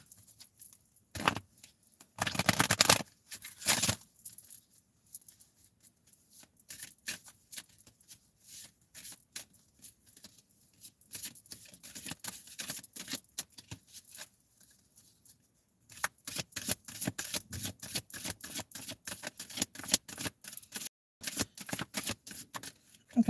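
Astrology tarot cards being shuffled, crisp bursts of riffling and flicking close by, separated by quiet pauses and turning into a dense run of rapid card snaps near the end, with no talk.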